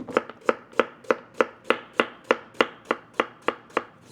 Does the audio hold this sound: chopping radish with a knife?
yes